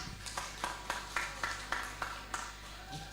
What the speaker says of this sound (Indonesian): Boleh berikan tepuk tangan yang meriah.